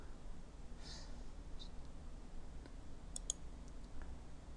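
Sparse light mouse clicks from a computer mouse during CAD sketch editing in Autodesk software, a few faint ticks over a steady low room hum with no talking.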